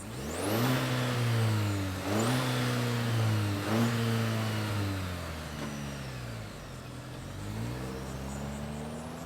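A 2023 Chevrolet Colorado ZR2 pickup engine cranks and catches, then revs up in several sharp bursts that rise and fall in pitch before settling back toward idle.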